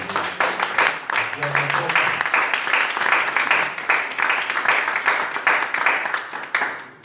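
A church congregation applauding, rhythmic group clapping that swells and continues for about seven seconds with voices mixed underneath, then cutting off abruptly.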